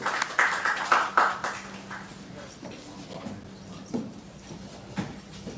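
Scattered applause from an audience at an engineering college felicitation ceremony, with a few bursts of clapping early on that quickly thin out to sparse, fairly faint claps over a quiet hall.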